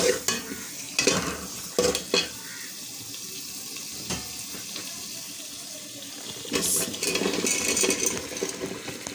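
Fish sautéed in a pan with spices gives intermittent sizzling and scraping stirs, with louder bursts of clatter near the start and toward the end, close by and without speech.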